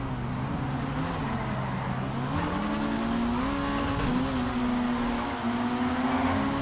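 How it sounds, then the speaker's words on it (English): A GTA 5 Online Flash GT rally car engine revs continuously, its pitch climbing and dipping as it accelerates, loud and steady with a faint tire-squeal edge. "I need a more revving sound."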